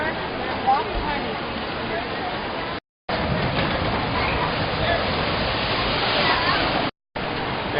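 Steady rushing and splashing water from a giant log flume ride at an amusement park, continuous and loud for most of the stretch with two brief silent gaps, and people talking over it.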